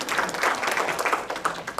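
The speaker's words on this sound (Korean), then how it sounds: "박수 부탁드립니다" Brief applause from a startup panel discussion audience, a soft, close patter of clapping hands that continues evenly for a moment.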